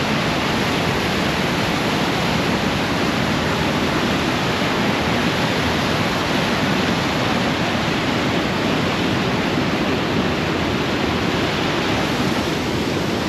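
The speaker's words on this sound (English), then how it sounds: "we've made it to the waterfall" A waterfall pours in a steady, dense roar of broadband rushing water, constant and unbroken, with no voices.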